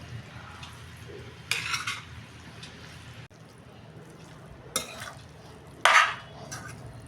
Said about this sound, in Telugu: ఇప్పుడు రైస్కి పట్టేలాగా ఈ టమాటా కర్రీ మొత్తం కలపాలి